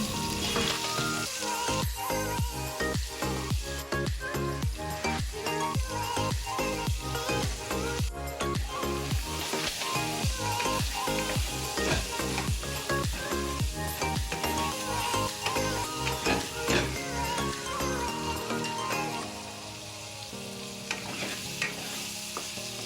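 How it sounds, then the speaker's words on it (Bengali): Cut potatoes with salt and turmeric fry in a pan, loud crackling sizzle under rapid repeated scraping stirs that keep a steady rhythm, easing off near the end. "এবারে এক এক করে কেটে রাখা আলুগুলো সব দিয়ে দেব। আর সাথে নুন আর একটু হলুদ দিয়ে খুব ভালো করে নাড়াচাড়া করে নেব।"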